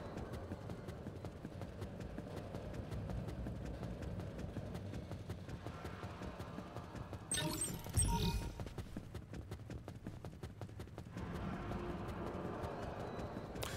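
Heavy, repeated footsteps of giant creatures in the video game Scarlet Nexus, a steady thudding rhythm of plodding steps that carries on with a brief louder burst partway through, with no one talking.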